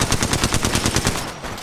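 Rapid automatic gunfire in Apex Legends, a loud close burst of evenly spaced shots roughly a dozen strong, fading briefly at the end.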